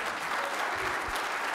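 Audience applause at a cybersecurity talk on compliance versus security, a steady wash of clapping from a seated crowd, moderately loud and continuous throughout with no speech over it.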